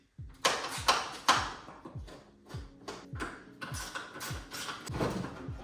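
A small screw is backed out of a BMW E39 headlight with a ratcheting tool, giving a close, rapid series of clicks and light scraping taps that fade slightly as the screw loosens.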